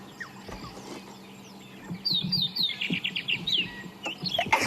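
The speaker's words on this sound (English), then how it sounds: "So many birds calling." Several birds chirp and call together, a busy chorus of quick high tweets and trills, growing louder and denser partway through.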